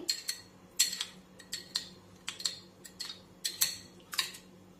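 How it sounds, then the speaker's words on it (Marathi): A spoon clinks rhythmically against a bowl while mixing onion juice with two spoonfuls of yogurt, with about a dozen sharp, evenly spaced taps, quiet and close. "यात आपण दोन चमचे दही टाकणार आहोत आणि हे मिश्रण छान असे मिक्स करून घ्यायचे आहे"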